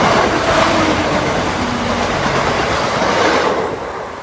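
A regional passenger train from Grimsby to Leicester rumbles loudly past a rural level crossing, with a steady roar of wheels and carriages close by that fades slightly at the end.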